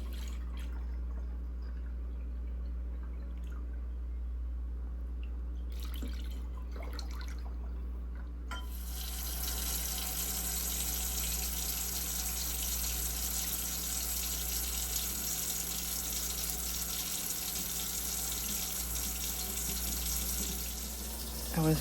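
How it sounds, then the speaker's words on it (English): An oil pot is washed under a kitchen tap. A low hum fills a quiet stretch, then the water gushes on and keeps running steadily, splashing into the sink. "I was washing the oil pot"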